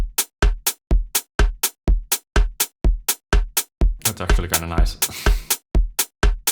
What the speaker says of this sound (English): the main elements here are the quite loud hi-hat and also a percussion as kind of the snare.